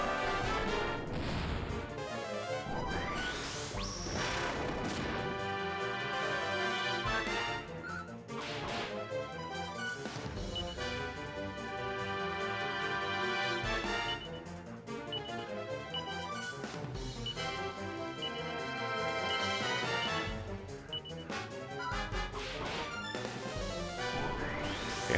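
Kaboom explosion spell attack in Dragon Quest 7 on the 3DS, heard as several sharp crashing, whip-like blasts spread across the stretch, layered over steady looping battle music.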